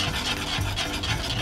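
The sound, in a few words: whisking melted chocolate with a whisk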